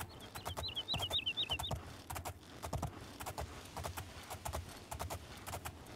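Horse hooves pound in a quick, regular clip-clop as a mount gallops along a hillside in the video game Oblivion, close and steady, with a short bird-like chirping near the start.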